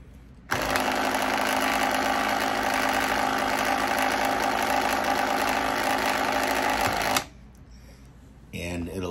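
A paint shaker churns a Model Air hobby paint bottle held in place by a rubber band, giving a loud, steady mechanical buzzing rattle that runs for about seven seconds and then cuts off.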